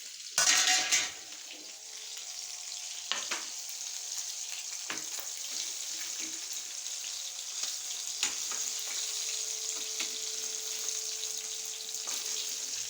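Chicken 65 deep-fries in hot oil on a stove, a steady close sizzle and crackle that runs throughout, with a few clinks of utensils against the pan.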